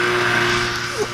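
A go-kart fitted with a snowmobile engine does a burnout, its tires spinning. The engine holds a loud, steady droning roar, then the pitch dips briefly near the end.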